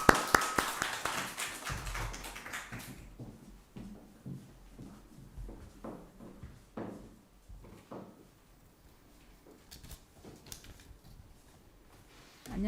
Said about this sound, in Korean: 박수 한번 합시다.